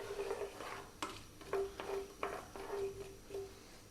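Black mustard seeds, cardamom pods and cumin seeds sizzle in hot oil in a pan, with soft crackle under a series of sharp metallic taps and scrapes of a utensil stirring them.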